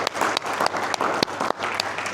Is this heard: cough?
no